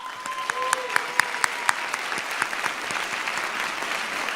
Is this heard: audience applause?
yes